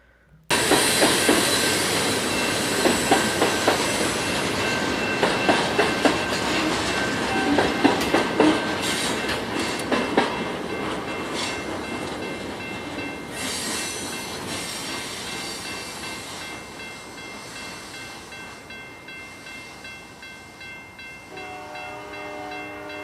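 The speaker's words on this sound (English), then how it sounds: "You can even hear the horn blowing in the distant crossing there." A CN freight train rolls past with a loud, steady rumble, clattering wheels and squealing, while a horn sounds faintly from a distant crossing before the noise gradually eases.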